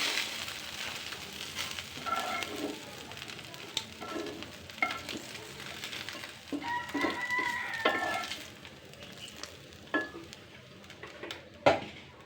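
A rooster crows somewhere in the neighbourhood, a distant drawn-out call rising over the louder, constant sizzle of sea fish frying in a pan close by, with no talk.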